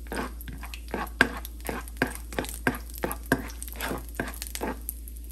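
Cashews roasting in ghee in a pan, sharp rhythmic scrapes and clacks of a spoon stirring them, repeating about twice a second over a low steady hum.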